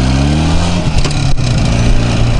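A car driving along a village road, its engine humming steadily up close with tyre and road rumble throughout, no voices.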